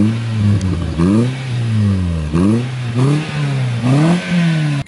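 Chipped 1500cc Toyota Auris engine revs up and down repeatedly, a deep, loud rumble rising in pitch with each blip of the throttle, recorded close by with no talking.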